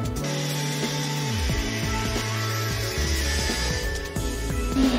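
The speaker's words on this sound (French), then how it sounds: "ici j'ai un morceau de hêtre en 27 mm qu'on va découper sur environ 2 mètres de long" A Festool universal circular saw blade rips a 27 mm beech board along roughly two metres, giving a steady, loud motor whine with a shifting tonal pitch throughout.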